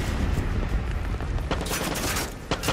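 Gunfire in the video game Far Cry 6: a dense, continuous fusillade of rapid shots and booms, loud and sustained, with sharper bursts standing out near the end.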